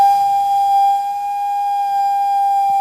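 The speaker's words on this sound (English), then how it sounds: "now you can hear the sound from a single yeast cell changing the temperature" Sonified vibration of a single yeast cell comes through as a steady, unwavering high tone with faint higher overtones, continuous and alone for the whole stretch.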